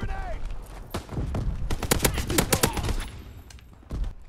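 Rapid bursts of Chatellerault light machine gun fire in the Call of Duty WW2 video game crackle in a dense fusillade, with several sharp shots and a pause, mixed with other game sounds.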